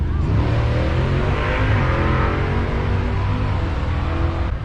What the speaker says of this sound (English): That's a W-12.